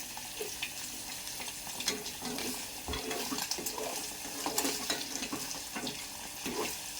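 Egg mixture stirred in a hot frying pan, seasoned with chilli powder, sizzles steadily up close while the spatula scrapes and clatters in irregular strokes, with no talking.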